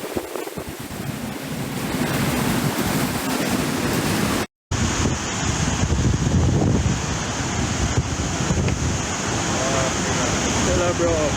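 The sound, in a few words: strong hurricane wind in Jamaica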